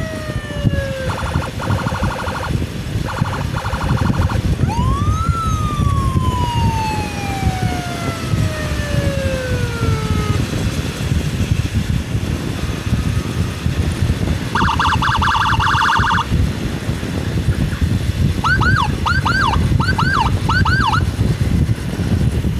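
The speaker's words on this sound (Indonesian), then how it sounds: "Woi, jauhnya ambulan." An ambulance siren wails and yelps through changing tones during an urgent patient escort on the road, loud and close over constant engine and road noise.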